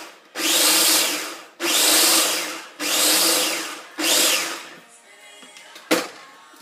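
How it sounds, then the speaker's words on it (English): A food processor chops oats into flour in four loud, close pulses of whirring blades about a second each, followed by quieter clatter and a short final burst. "we're going to chop up the oats and turn it into some sort of finer grain flour"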